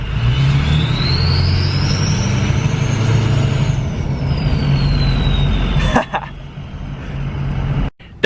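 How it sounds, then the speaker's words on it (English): A Ford 6.0 Powerstroke diesel truck idles with a deep rumble while a turbo whistle rises in pitch under light throttle and slowly falls away, echoing off a nearby warehouse, followed by a few short knocks near the end. "The whistle on this truck is crazy though. Even just casually, just slightly on the pedal echoing off this warehouse."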